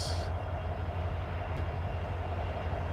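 CSX freight train number 4706 hauling a string of auto rack cars, a steady continuous low rumble of rolling cars and wheels on the rail, heard close and loud throughout with no voices.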